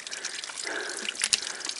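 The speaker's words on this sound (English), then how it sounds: "he's gonna fill some water right here." Water trickling and dripping as a bottle is filled from a natural source on a hiking trail, a steady close splashing stream with a couple of sharper drips near the end.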